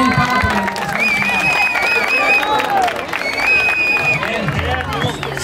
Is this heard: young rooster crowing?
no